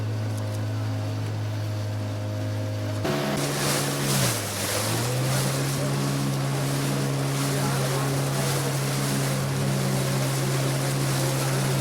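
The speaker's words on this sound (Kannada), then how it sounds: "ಬೋಟ್ ಮೂಲಕನೇ ಕೂತ್ಕೊಂಡು ಕಾವೇರಿ ನದಿಯನ್ನು ದಾಟಿ ಕ್ಯಾಂಪ್ಗೆ ಬಂದರು" A boat crossing the Kaveri river drones steadily with its engine up close, the motor surging louder after a few seconds and holding a constant hum over washing water and wind.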